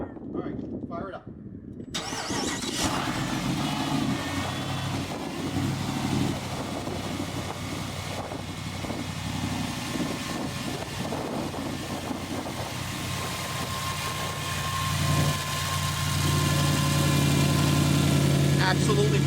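A Hemi-swapped car in a shop fires up after a brief crank and settles into a loud, rumbling idle that swells near the end, with people talking over it.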